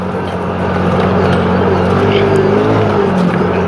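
A CFMOTO ZForce 500 side-by-side motoring along a trail at about quarter throttle, its engine droning steadily with a rising and falling pitch and close, continuous mechanical noise throughout.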